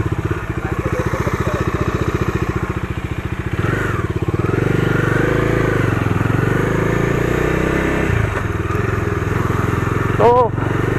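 A Bajaj Dominar 250 BS6 motorcycle with an oil-cooled engine idles close by in a steady, rapid thumping pulse, then revs up and settles into a fuller drone, with a brief higher sound near the end.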